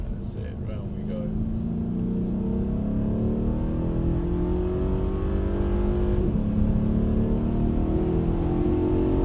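A mid-engine rear-wheel-drive car accelerates at Brooklands, its engine note climbing steadily in pitch as the revs rise, heard loud and close from inside the car, with voices partly over it.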